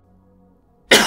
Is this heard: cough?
yes